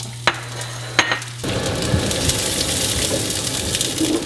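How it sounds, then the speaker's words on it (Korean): Food stir-frying in olive and avocado oil: a couple of light clicks, then a loud, steady hiss and crackle of sizzling that carries on to the end, with no talking. "올리브 오일 아보카도 오일이 안 타게 해서 먼저 이걸로 볶는"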